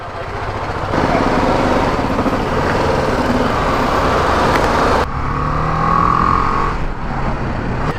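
A BMW G310 GS motorcycle, a 300cc-class bike, revs loudly on a test ride in India, its engine droning with a brief drop and surge as it shifts gear, with wind rush and no talking.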